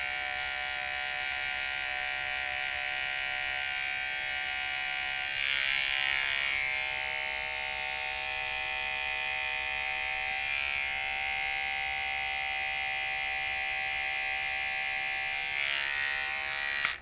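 Electric hair clippers fitted with a 1 guard, lever open, trim a beard in a steady close buzz that runs the whole time, briefly brightening as the blades move through the hair, with no talking.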